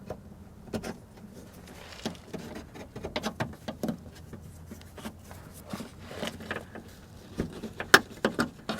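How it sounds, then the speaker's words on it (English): A plastic trim tool works loose the interior door panel trim on a Toyota Camry rear door, giving scattered sharp clicks, pops and scraping taps at close range over a quiet background. "I'm just going to come in here with a trim tool and see if I can get the other side"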